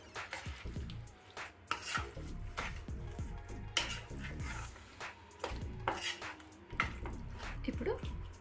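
A spoon mixes grated raw mango pickle with a cooled oil tempering in a bowl, giving irregular close scraping and clinking strokes, with a voice talking over the mixing.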